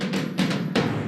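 A mid percussion sound from the Falcon Asteroid instrument, a few soft noisy hits in an uneven pattern across a second, muffled and moderate in level, with no voices.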